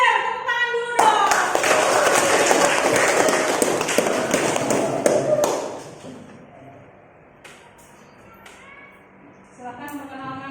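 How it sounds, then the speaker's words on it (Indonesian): Clapping from a class or workshop audience at a teacher competency exam session, a dense burst of applause lasting about five seconds that then fades into murmuring and talk. "Tepuk tangan dulu dong."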